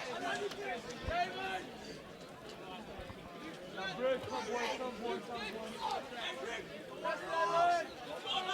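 Steady babble of spectator chatter and crowd noise fills the poolside at an under-19 schoolboy water polo match between Bishops and Rondebosch, rising in bursts as the crowd waits for the starting whistle.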